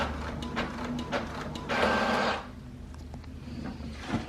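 A home inkjet printer prints a sticker sheet for a Cricut print-then-cut project, with rhythmic clicking and whirring of the print head and a louder paper-feed burst in the middle, heard close up.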